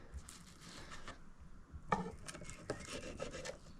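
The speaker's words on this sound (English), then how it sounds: "I'm kind of pushing down against the chopping board and just sawing away." A knife rasps back and forth, sawing through gurnard fish against a chopping board in close, quiet strokes, with soft scraping and a few sharper knocks.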